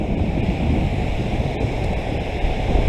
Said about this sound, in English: I'm sorry about the wind sound, but I can't do a lot about it.